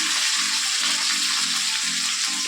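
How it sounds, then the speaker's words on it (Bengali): Cabbage frying in a pan, a steady close hiss of sizzling oil with a faint low pulsing underneath and a small knock at the very end. "বাঁধাকপিটাকে রান্না করে নিই।"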